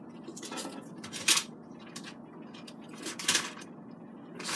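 Beer battered frozen fish fillet flipped in a pan, with clanking utensil-on-pan knocks and scrapes at two moments over a low steady frying hiss.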